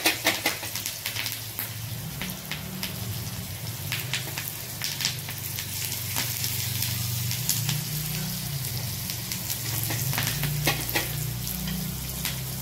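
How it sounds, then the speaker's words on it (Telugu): Garlic paste and curry leaves fry in a pan for a mango dal tempering, giving a steady, dense sizzle with crackling pops throughout and a low hum underneath, with no talking. "కొద్దిగా దంచుకున్న వెల్లుల్లి పేస్ట్ వేసుకోండి తర్వాత కరివేపాకు ఇలా వేసేసుకొని కొంచెం వేగనివ్వండి"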